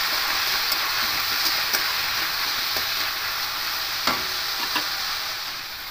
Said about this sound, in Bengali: দিয়ে হালকা করে একটু ভেজে নেব।